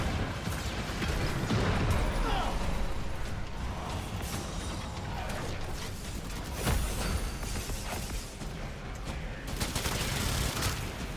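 Rapid, dense gunfire in the shooter game Warframe, a steady stream of close, loud shots with a few sharper bursts standing out, and no talking.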